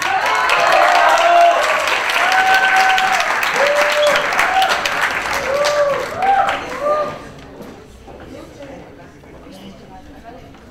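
A crowd at a university campus festival in Medellín applauds loudly and steadily for award winners while a voice speaks over the clapping. The ovation thins and fades near the end.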